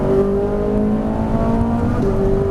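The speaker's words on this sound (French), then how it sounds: "On ouvre le volant, on accélère de plus en plus." Ferrari 458 Italia accelerating on a circuit at Trappes, a loud sustained engine roar with a rising, harmonic-rich tone heard from close by, steady throughout with no talk.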